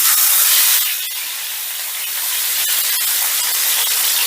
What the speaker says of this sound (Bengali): এবারে আমি মাছটা ভেজে নিচ্ছি